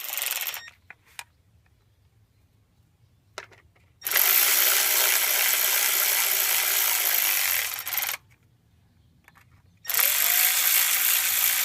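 Oil cooler bolts are snugged up with a hand tool on a 6.0 Powerstroke diesel, producing two sustained bursts of close, bright mechanical whirring with quiet gaps and small clicks between.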